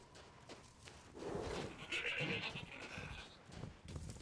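A goat bleats in Resident Evil Village, a mid-level cry that rises over the game's ambient noise with some faint voice-like sound around it.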